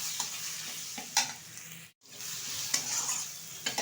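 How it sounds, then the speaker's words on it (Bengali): Spices sizzle in a pan for a pomfret fish curry while a spoon stirs them. The frying hiss is steady and close, with scraping strokes at intervals and a brief break in the middle. "ভালোভাবে একটু কষিয়ে নেব।"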